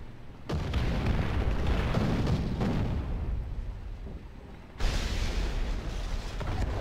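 Heavy explosive booms from a tank explosion in a War Thunder battle, with a dense rumbling blast at the start and another sharp burst near the end, loud and close.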